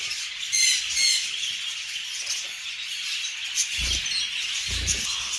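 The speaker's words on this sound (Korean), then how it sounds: "어, 앵무새야, 앵무새야, 앵무새야?" Parrots at a bird farm let out harsh, bright squawks and chatter in irregular bursts, with a couple of low thumps mixed into the steady noisy background.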